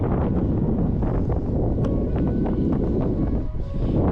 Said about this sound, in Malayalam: തണുത്ത കാറ്റ് വിറയുന്നുണ്ട് നല്ല വിറയലുണ്ട്